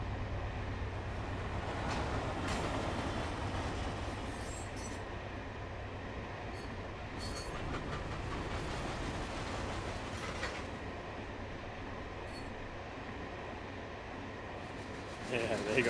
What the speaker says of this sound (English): See the whole train go by real fast.